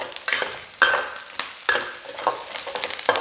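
Curry leaves and onions fry in a hot pan, the sizzle rising in sharp bursts as they are stirred, with crackling surges fading between each stir.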